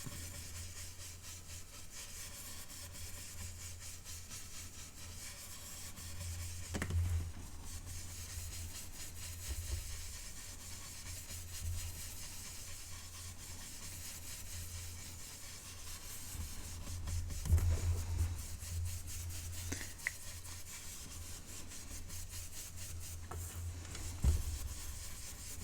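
A blending brush rubs ink onto paper with soft, continuous scrubbing strokes, close and quiet, swelling slightly in a few passes over a steady background hiss, with no talk.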